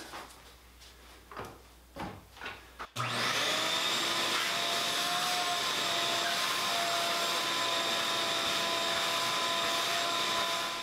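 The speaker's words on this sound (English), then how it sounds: "So it looks like it sucked up quite a bit, including parts I didn't want to suck up." A shop vacuum fitted with a bucket dust separator starts up abruptly after a few brief knocks and clatters, then runs loud and steady close by, its whine holding while debris is sucked up.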